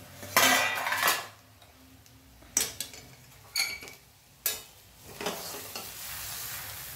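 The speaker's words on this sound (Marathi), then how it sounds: "आता शिमला मिरची हलवून द्यायची आहे" Bell pepper (capsicum) frying in a pan, stirred with a utensil in several separate bursts of scraping and clattering against the metal, with a soft sizzle underneath and no talking.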